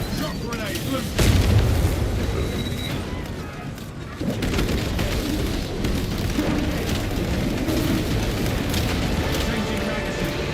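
A shock grenade explosion from the Space Marine 2 video game, a deep booming blast early on followed by a rumbling, crackling battle din that continues under voices.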